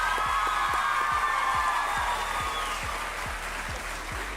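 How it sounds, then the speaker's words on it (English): Sustained audience applause for a homecoming court at a coronation ceremony, dense steady clapping from a crowd that fades slightly toward the end, with a low rhythmic thump underneath. "Let's give this year's homecoming court one more round of applause."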